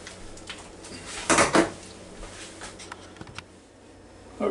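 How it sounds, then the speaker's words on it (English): Knife and fork lifted from beside a plate of Instant Pot filet mignon, giving a brief cluster of metallic clinks and clatter near the middle, then faint scattered taps in a quiet room. "Let me get a knife and a fork over here."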